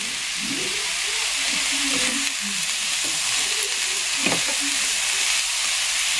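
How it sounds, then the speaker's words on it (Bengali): Fried rice stir-fried in ghee over a high flame sizzles and hisses steadily, with repeated scraping and tossing from a spatula close by and no one talking. "পুরো হাই ফ্লেমে করতে হবে ফ্রাইড রাইসটা, নাহলে কিন্তু টেস্ট হবে না। পুরো রান্নাটাই একদম ঘিতে হচ্ছে"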